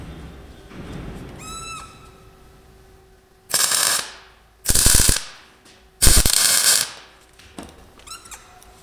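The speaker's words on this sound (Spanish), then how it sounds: "Y ahí tenemos la medida que vamos a soldar esta argolla." Steel ring being tack welded onto a trailer hitch, three loud crackling bursts of about a second each with short pauses between, squeaky mechanical clicks before and after.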